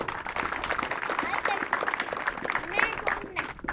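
An audience claps in a dense, continuous patter while voices and cheers rise over the applause.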